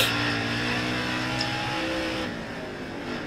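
A NASCAR race car engine roars in NASCAR Heat 4 during a lap at Texas, a dense continuous drone that holds near and loud, then eases slightly toward the end, with no voices.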